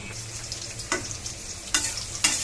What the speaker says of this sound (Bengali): শুধু উস্তে ভাজা করছি।